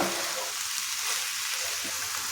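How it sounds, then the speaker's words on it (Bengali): Amla pickle with chillies being stirred in a pan, a steady broadband sizzle of frying with soft scraping from the spoon, close and continuous with no talking. "লঙ্কাটাও একসাথে খুব ভালোভাবে মিশিয়ে নিচ্ছি।"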